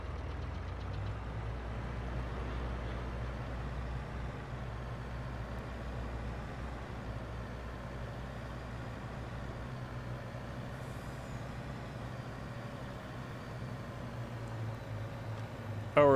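A truck engine in the Farming Simulator 22 video game rumbles steadily, a low continuous drone at even loudness throughout, with no talk over it.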